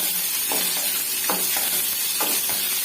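Eggplant pieces sizzle and crackle in hot oil in a pan, with a few soft stirring scrapes repeating at intervals.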